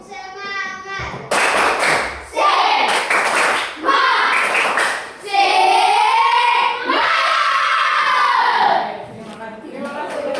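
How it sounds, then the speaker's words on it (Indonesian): A classroom of children doing a rhythmic spirit clap, close and loud, with bursts of patterned clapping alternating with their chanting voices and a teacher's prompts. "Tepuk semangat. Satu kali lagi, lebih semangat lagi."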